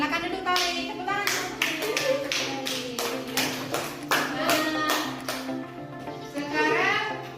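Children in a classroom clap in a series of sharp, irregular bursts, close and fairly loud, while a voice and other talk carry on underneath.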